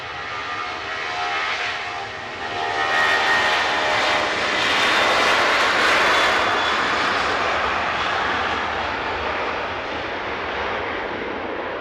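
TUI airliner bound for Funchal, its jet engines building from a moderate rumble to a louder sustained roar with a faint high whine, continuous and unaccompanied by voices.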